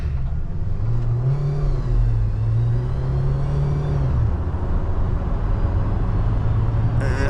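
A pre-production 2026 JAC Hunter PHEV pickup with a 4-speed transmission accelerates hard from a standstill, its engine drone rising in pitch, dropping at a shift, then holding a loud, steady roar heard from inside the cabin.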